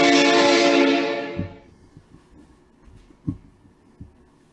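A train arriving in an old film scene, opening with a loud, sustained horn blast that fades away after about a second, followed by a few soft low thumps over a quiet background.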